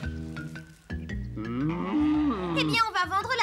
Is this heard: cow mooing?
yes